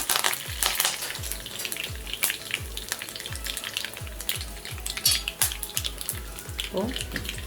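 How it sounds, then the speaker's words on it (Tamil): Dried red chilies and curry leaves frying in oil for carrot poriyal make a steady, close sizzle over a rhythmic low thumping in the background. "ரெண்டு காஞ்ச மிளகா பிச்சு போட்டுருங்க. அது கருவேப்பிலை"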